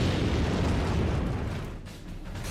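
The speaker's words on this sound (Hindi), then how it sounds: "न्यूक्लियर बम के चलते एक बड़ा धमाका होता है।" A huge, roaring nuclear bomb blast rumbles continuously, a thick wall of low booming noise that slowly fades slightly before surging again.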